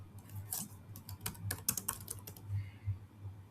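Fingers type a company name into an Excel spreadsheet on a computer keyboard, a close, quiet patter of key clicks in short irregular bursts with brief pauses, over a faint low hum.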